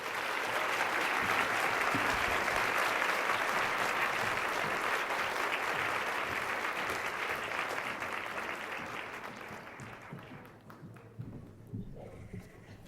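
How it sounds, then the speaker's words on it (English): Sustained applause from a luncheon crowd at the 2012 St. Louis Business Journal Women's Conference, a dense roar of clapping that holds steady, then gradually fades toward the end. "maybe one more round of applause for Diane"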